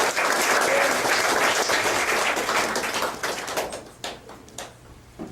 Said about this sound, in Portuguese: Vamos aplaudir em nome de Jesus.